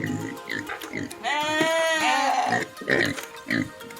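Pigs on a farm near an electric fence grunt and squeal, with one long, loud, pitched squeal in the middle and shorter grunts around it, while a person talks over them.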